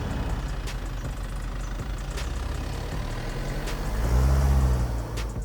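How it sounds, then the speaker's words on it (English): Hyundai Santa Fe 2.2 CRDi diesel engine heard from inside while driving, a low, steady rumble that swells louder for a moment as the car picks up speed, then settles back. "you are constantly reminded that you are driving a diesel car"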